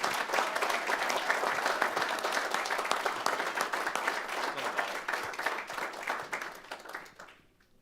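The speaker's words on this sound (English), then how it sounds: "Round of applause for everybody" Applause fills a city council meeting chamber in Menifee, a sustained, fairly distant round of crowd clapping that fades out at the end.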